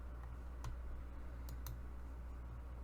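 A few crisp, faint clicks on a computer, three sharp ticks spaced apart over a quiet background with no talking.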